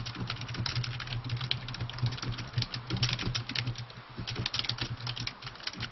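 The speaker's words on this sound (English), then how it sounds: "That's Alan typing" Steady, rapid clatter of fingers typing on a computer keyboard, close and fairly loud, running continuously with no voices over it.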